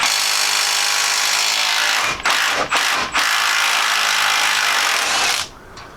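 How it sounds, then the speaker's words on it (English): An impact wrench fitted with an 18 mm impact socket works loose a Loctite-coated bolt during a wheel hub bearing job on a GM truck, its loud hammering whir running almost nonstop, broken by a few short pauses, before cutting off near the end. "now I can get an 18 millimeter impact socket. Let's see if that'll get it out."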